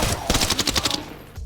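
Rapid burst of gunfire in Arena Breakout Infinite, about eight sharp shots fired in quick succession, loud and close, then fading into a quiet tail.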